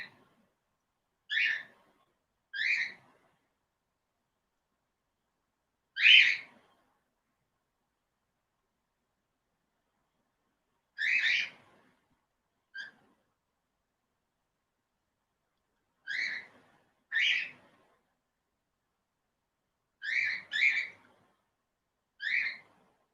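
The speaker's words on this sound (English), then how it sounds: "the birds are all sorts of vocal" Clear, piping bird calls ring out in short bursts, spaced irregularly with quiet gaps between them, fairly close and alone.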